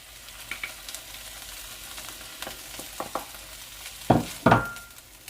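Corn warming in melted butter in a pan, a soft steady sizzle with scattered crackles and a few louder stirring clatters near the end, heard close with no talking.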